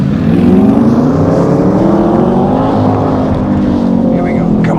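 A Corvette Stingray engine on a race track during a warm-up lap makes a loud, steady, close droning growl that holds its pitch. It rumbles throughout, with people talking over it.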